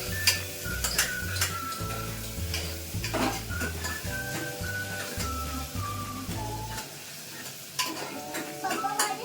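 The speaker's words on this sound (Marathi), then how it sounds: "आता आपण ह्याच्यात टाकला आहे कांदा" Onion fries in a pan for misal and is stirred with a utensil in repeated scraping strokes, over a steady sizzle, heard up close, with occasional clinks against the pan.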